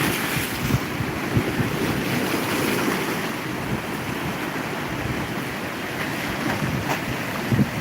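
Rough surf pounds the beach under gusting wind, a continuous loud wash of breaking waves with heavy wind buffeting on the microphone throughout, no voices.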